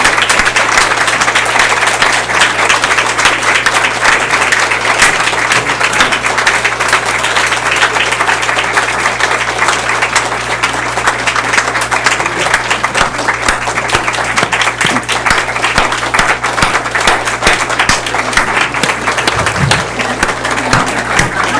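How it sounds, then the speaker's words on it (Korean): A church congregation stands and applauds through a flower bouquet presentation honoring a pastor's thirty years of service, with dense sustained clapping filling the room throughout and a few scattered voices beneath. "꽃다발 증정할 때 다 일어나셔서 박수를 한번 하시겠습니다."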